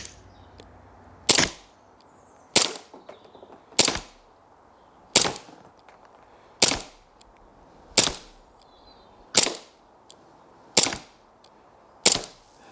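A Remington 1911 RAC Tactical 4.5mm CO2 air pistol fires nine sharp, snappy shots at even intervals of roughly a second and a quarter, each crack close and crisp against a quiet background.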